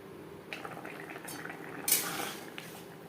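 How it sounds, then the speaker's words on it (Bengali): Potatoes are stirred into fish curry gravy of silver carp in a pot, giving soft wet scraping and a few metallic clinks of a spoon against the pot, quiet and close over a low simmering hiss, with no speech. "গ্রেভির সাথে আলু বেশ ভালো করে মিক্সড করে দেবো।"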